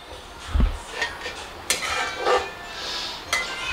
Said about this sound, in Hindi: अब ये 5 मिनट के लिए मैं इसे ढक दूंगी